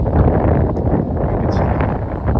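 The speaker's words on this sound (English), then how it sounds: "It's pretty windy" Strong outdoor wind buffets the microphone during a day of fishing with a spinnerbait, a loud, continuous low rumble with no talk.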